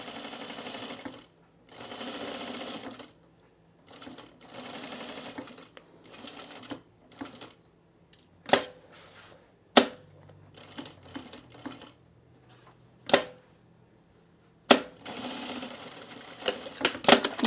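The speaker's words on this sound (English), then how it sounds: "You're just gonna sew around your box." A sewing machine stitching a box around a cargo shorts pocket, running in short separate bursts with pauses between, plus sharp clicks and thumps from handling, close and alone with no talk.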